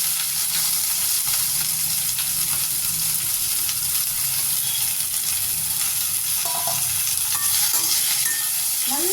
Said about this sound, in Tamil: இந்த பரண்டையை இந்த நல்லெண்ணெயில் போட்டு கொஞ்சம் அப்படியே வதக்க போகிறேன்